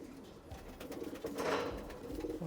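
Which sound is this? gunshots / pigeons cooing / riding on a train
pigeons cooing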